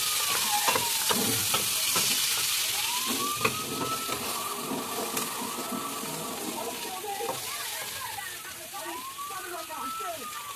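Mild sausage links blackening Cajun-style in a hot pan give a steady, fairly loud sizzle and crackle throughout, with a person talking over the frying.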